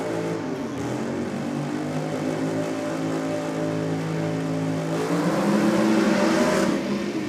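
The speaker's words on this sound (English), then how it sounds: "the Gulf Western Oil Speedflow Dodge Charger with the Sainty billet 3 valve alcohol motor in it" A Dodge Charger drag car running a billet three-valve alcohol motor launches at a nitro drag event, its engine roaring loud and steady throughout with a rising surge of revs near the end.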